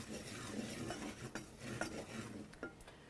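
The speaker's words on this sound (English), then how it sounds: "Stir that in." Tomato puree gets stirred into a chickpea and spinach curry, producing faint wet scraping and occasional utensil knocks against the pot over a low simmer, quiet and close, with no voices.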